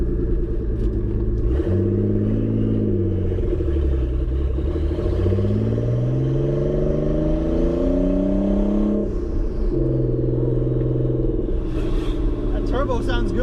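A loud Nissan 300ZX Z32 twin-turbo engine with open turbos revs up and down on a first drive, its pitch rising and falling as it pulls, with a faint turbo whistle and a person talking over it.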